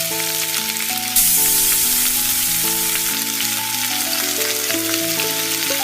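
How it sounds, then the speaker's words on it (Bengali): Lentil and onion fritters (peyaju) go into hot oil in a pan one by one and fry with a continuous close sizzle, which grows louder partway through, while music plays underneath. "এরপর সুন্দর করে একটি করে পেঁয়াজু মেক করে তেলে দিয়ে দিচ্ছি"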